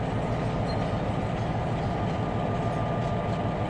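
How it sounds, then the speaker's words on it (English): A train engine in the Trainz 2022 simulator rumbles steadily with a dense, low diesel drone and rolling rail noise, continuous and close throughout with no voices. "Engine sound. I really like that engine sound."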